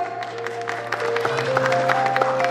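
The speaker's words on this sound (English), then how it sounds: "Give a big round of applause for her" Audience applause at a school prize distribution ceremony, steady clapping from a crowd filling the hall, with a sustained tonal hum or music underneath throughout.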